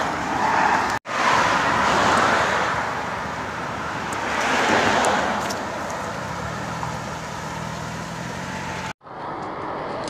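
Road traffic rushing past beside a concrete barrier, heard by a pedestrian: a continuous roar of passing cars and trucks swelling and fading in waves, fairly near.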